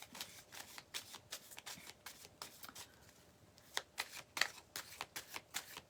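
Tarot cards being shuffled and handled, a steady run of crisp riffling bursts and soft card slaps at close range, with no one speaking.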